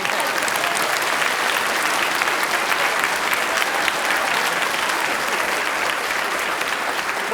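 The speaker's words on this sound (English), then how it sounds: "Round of applause." Steady, dense applause from a lecture audience, loud and sustained throughout without pause, with no speech over it.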